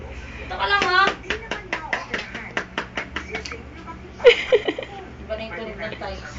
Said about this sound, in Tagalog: Iba na yung tunog ng tiles.